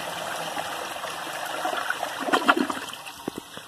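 A 2001 Vitromex Marathon toilet overflows during a washcloth flush test, with water trickling and then gushing and splashing in irregular bursts, close by and with no talking.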